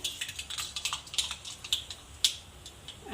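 Mustard seeds splutter in hot oil, giving rapid, irregular, sharp little pops that crackle faintly but steadily, with one louder snap near the end and no talking.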